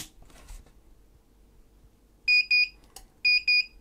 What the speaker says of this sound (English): So if you've got a bad power supply, this is the noise you're likely to hear